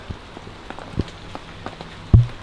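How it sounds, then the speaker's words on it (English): Rain falls outdoors where a tiny house is being moved, a soft patter with scattered drops and one louder close tap near the end, no voices. "Oh, look at the rain."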